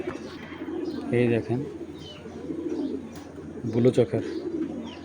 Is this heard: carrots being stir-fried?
no